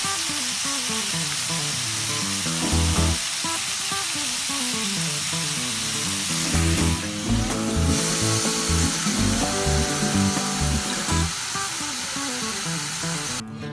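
Oil sizzles steadily while tandoori chicken cooks in a griller, a loud, continuous frying hiss broken by occasional scrapes and clatters of utensils.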